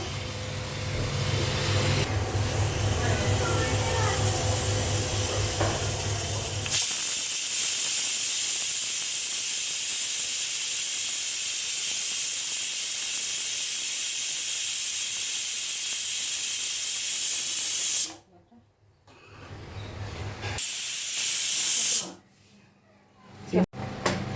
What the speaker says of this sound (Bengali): লক করে দিলাম, এবার সিটি হোক, 4টে সিটি হওয়ার পর।